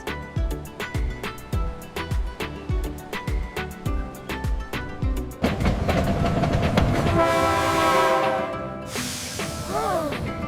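A train horn blares loudly over rhythmic clickety-clack of rolling wheels, with music-like pulses before the horn swells and sustains toward the end.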